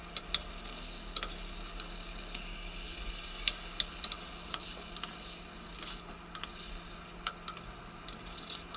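Pieces of kuyrdak, a Kazakh meat dish, fry in a pan with a faint steady sizzle, while a utensil scrapes and taps in sharp, irregular clicks as the meat is stirred.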